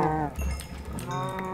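Cows moo in the video game Minecraft during a cow invasion, with drawn-out low bovine calls that overlap and swell over the whole stretch, loud and close.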